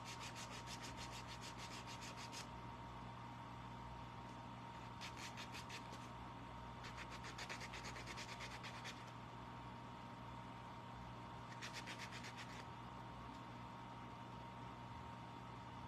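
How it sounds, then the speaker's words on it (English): Sandpaper rubbing along the sides of a craft piece, very faint bursts of rapid scratchy strokes coming and going in several short bouts over a low steady background hum, with no talk. "So then you can go along the sides and sand some of it down."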